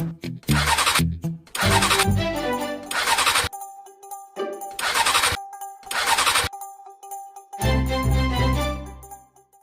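A push-started motorcycle engine sputters and catches in several bursts, revving loudly with short gaps between, then roars again near the end.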